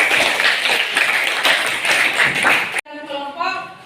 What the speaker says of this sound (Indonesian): kasih tepuk tangan yang meriah untuk Dre